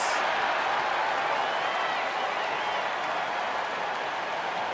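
Steady arena crowd noise at a Detroit Pistons home game at the Palace of Auburn Hills in the basketball video game NBA 2K17, a continuous wash of cheering and applause holding at an even level throughout.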